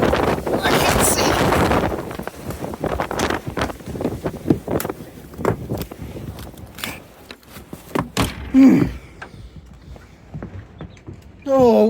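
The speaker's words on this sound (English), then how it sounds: "what is the mile per hour on that wind? It's got to be like 70, 80 miles an hour." Powerful Mojave Desert windstorm in Southern California blasting across an outdoor microphone in loud gusts and buffeting rumbles, with a person speaking over the roar.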